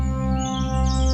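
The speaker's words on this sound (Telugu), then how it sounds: "ఇవి చాలా అరుదైన జాతి పక్షుల్లా ఉన్నాయి." Cartoon birds chirping in a children's story, bright tweets over a steady tonal music bed, brief and fairly loud, with no talk.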